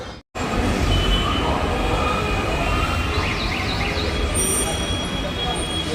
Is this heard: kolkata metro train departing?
yes